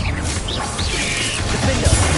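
A Bombarda blasting spell bursts in Hogwarts Legacy, a dense, loud crashing impact with rumbling low end and swishing magical effects that sustains steadily for about two seconds.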